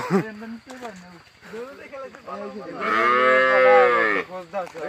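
A cow moos loudly and close by in a long, drawn-out call, while people talk excitedly before and around it.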